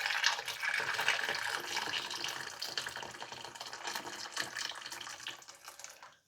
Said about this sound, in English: And then we're going to cover them with boiling water.